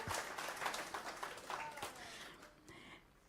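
A church congregation applauds in a steady wash of scattered hand claps, fairly faint and fading toward the end, with voices talking over it.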